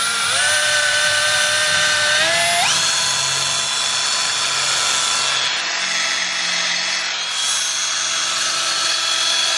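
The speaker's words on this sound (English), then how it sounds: "Gave me the smallest fucking drill in the world. I'm gonna be here for an hour." A small power drill whines loudly and continuously while drilling into metal during the scrapping of a Jeep, its pitch rising sharply early on and then holding steady.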